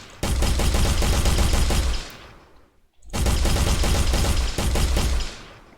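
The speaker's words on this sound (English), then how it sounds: "If you don't like what you built, you can actually shoot it and destroy it." Video game gunfire as a built structure is shot and destroyed: two loud sustained bursts of rapid shots, about two seconds each, split by a short near-silent gap.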